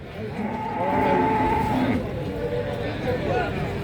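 Cattle moo at a busy cattle market in Tuban, a long low bellow and further lowing nearby over crowd chatter and someone talking close by.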